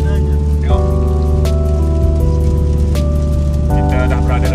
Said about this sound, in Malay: Hari ni hujan teruk